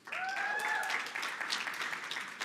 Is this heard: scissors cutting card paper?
no